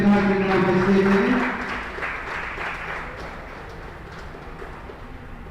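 Applause at the Splendor Xtec launch ceremony at Westcoast, Kankanady, a dense crowd clapping that starts loud and gradually thins out, with tonal music or voices faintly underneath.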